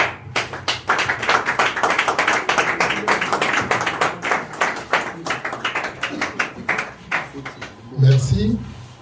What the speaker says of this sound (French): sous vos applaudissements, nous accueillons le digne fils de Moamba, honorable Alex Kalenda.